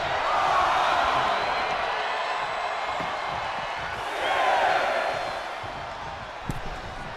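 Wrestling arena crowd in WWE 2K25 roars steadily throughout, a broad sustained cheer that swells again midway, with a sharp impact thud near the end.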